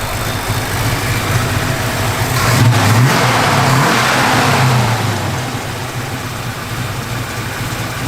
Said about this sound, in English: You hear that cam, man? It's got a hot little cam in it.